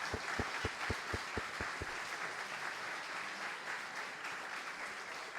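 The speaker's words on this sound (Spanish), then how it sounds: "Y damos un aplauso a todos los mayores." A church congregation applauds its elders at a gathering, opening with a few loud, evenly spaced claps before settling into steady, sustained applause filling the room throughout.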